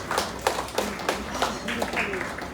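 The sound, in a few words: audience clapping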